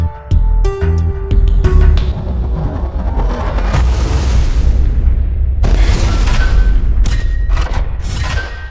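Explosions boom in an underground car race video game, with a burst of loud thuds and blasts at the start, then a sustained rumbling roar and further crashing hits.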